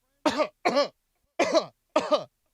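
Four sharp, close coughs in two quick pairs separated by brief silence.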